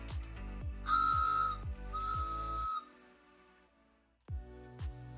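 Two sustained blasts from a wooden train whistle, shrill and steady, each lasting about half a second, over a low rhythmic rumble that stops abruptly before a few faint thumps.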